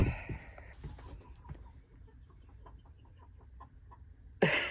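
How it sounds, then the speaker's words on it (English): A chicken clucking underneath a camper, a series of soft, short clucks in a loose rhythm, faint and a little distant, with rustling movement at the start and end. "That's our chicken friend right underneath the camper."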